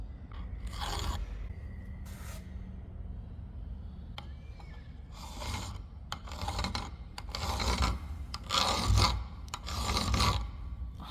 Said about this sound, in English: So I'm going to take a file and see if we can file them.